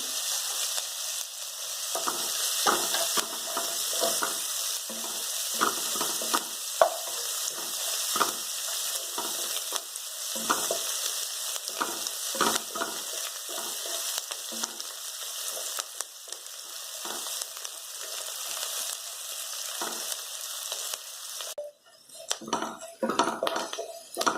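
Onions sizzle and crackle steadily in a hot pan with sesame, cumin, curry leaves, asafoetida and peanuts, with occasional scraping and stirring sounds throughout, no talking.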